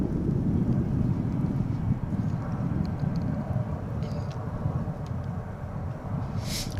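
An American passenger jet arrives on the west side of DFW airport, inbound from Midland, Texas: a steady, loud broadband roar with low rumble that holds for the whole span, with wind buffeting the microphone and no talk.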